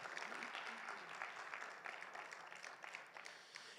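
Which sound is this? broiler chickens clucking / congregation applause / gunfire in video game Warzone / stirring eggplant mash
congregation applause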